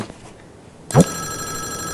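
In Five Nights at Wario's, a telephone rings once: a sudden bright electronic ring cuts in after a second of quiet, then keeps up a steady tone to the end.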